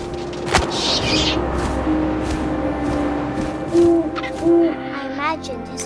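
An owl hoots in the video game What Remains of Edith Finch: two soft, low, evenly spaced hoots over a windy, hissing background, with a sharp tick early on and faint chirps near the end.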